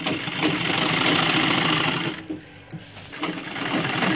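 A sewing machine stitches a dhoti shalwar in a fast, close mechanical chatter that pauses briefly midway and then resumes.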